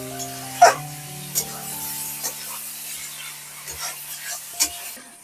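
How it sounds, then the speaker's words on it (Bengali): Chicken stirred in a pan with whisked sour yogurt for reshmi chicken, giving a few sharp scraping clinks of a spoon against the pan over soft sizzling, with background voices and tonal hum. "এবারে নাড়াচাড়া করে নিতে হবে"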